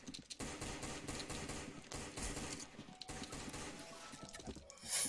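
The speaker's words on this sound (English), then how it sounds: "Oh, I have the AK 47," AK-47 gunfire in a first-person shooter match: rapid, continuous automatic bursts rattling for several seconds, fairly faint and slightly distant, ending with a louder burst.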